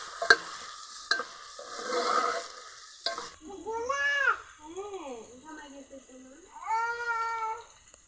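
Vegetables frying in oil for vegetable fried rice, stirred in a pan, give a steady crackling sizzle with a few sharp clicks for about three seconds. A cat then meows several times in drawn-out, rising and falling calls.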